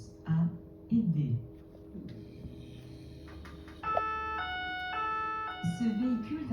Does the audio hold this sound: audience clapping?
no